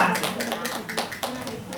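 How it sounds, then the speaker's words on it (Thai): Trainees in a telesales course clap together as a group, producing a quick run of sharp, rhythmic hand claps that are close and fairly loud. "เสียงปรบมือพอใจไหมคะ"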